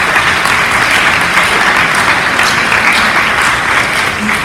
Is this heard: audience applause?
yes